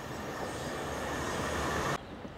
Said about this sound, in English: Train's just pulling in, so not much to say.